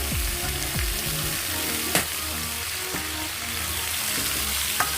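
Kakrol (teasel gourd) frying in a covered pan, a dense continuous sizzle with a low hum beneath and a few light clicks.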